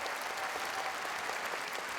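An audience at the Royal Albert Hall claps steadily during a live brass band concert, a dense, even wash of applause filling the hall with no voices standing out.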